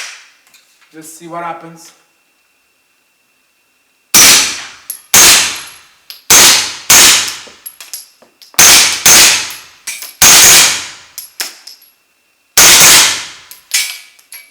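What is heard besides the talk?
CZ Scorpion Micro suppressed gunshots, 124 grain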